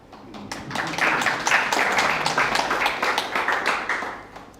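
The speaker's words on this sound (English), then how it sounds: "I think we deserve a clap on that." Audience applause at a medical conference talk on cervical cancer brachytherapy in Uganda, a dense burst of hand clapping that swells, holds steady for several seconds and then tapers off, with no voices over it.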